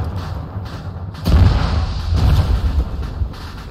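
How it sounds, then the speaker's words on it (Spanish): An explosion in a video game bringing a building down: a sudden deep boom followed by a rolling, crumbling rumble that swells again before slowly fading. "Se nos está cayendo el edificio encima con la explosión"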